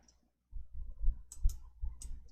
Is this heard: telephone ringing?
no